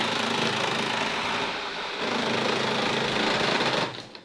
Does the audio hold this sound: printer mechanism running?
yes